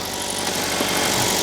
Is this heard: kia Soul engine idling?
yes